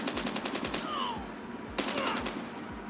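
Call of Duty Mobile gameplay with close automatic weapon fire: a fast string of shots, a short pause with a faint whooshing sweep, then another rapid burst, loud and dense throughout.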